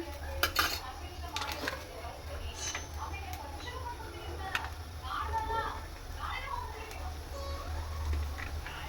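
A spoon clinks and scrapes against a pot while stuffed chili curry is mixed and turmeric powder is added, with irregular metallic taps and rattles throughout and a person talking over them.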